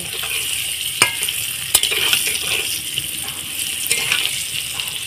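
Food frying in a pan with turmeric powder, turned to cook the other side while making khichuri: a steady, loud sizzle throughout, broken by a few sharp clinks of a utensil against the pan.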